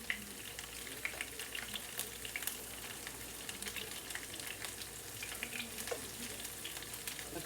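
Steady crackling sizzle of homemade tater tots frying in a hot electric frying pan, a dense continuous spitting texture with no talking.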